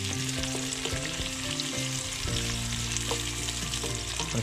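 Sliced zucchini sizzling and frying steadily in a pan for pasta, a dense continuous crackle with occasional stirring clatter, close and loud throughout.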